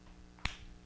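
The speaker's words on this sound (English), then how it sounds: "then we're going into our clapping push-ups." A single sharp hand clap lands mid-rep during clapping push-ups in a fitness workout, close and crisp against quiet background noise.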